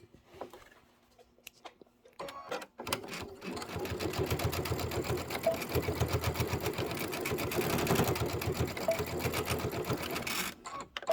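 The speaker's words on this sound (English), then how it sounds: "I'm just going to sew it down right now." A domestic sewing machine stitches down the end of a fabric cucumber eye mask, running in a steady, fast, buzzing chatter for about eight seconds after a few quiet clicks and handling noises, loud and close.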